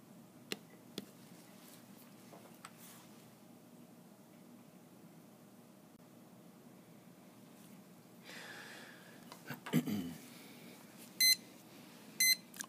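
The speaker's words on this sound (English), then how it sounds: "I'm going to get my timer going here for 2 minutes" A lab timer set for a two-minute incubation gives a few short, high, clipped beeps late in a quiet stretch, preceded by faint clicks and a brief rustle of handling.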